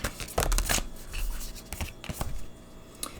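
Oracle cards being shuffled by hand, a run of quick papery riffles and flutters with soft rubbing between them, close and fairly quiet.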